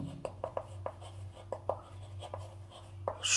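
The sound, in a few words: writing a math answer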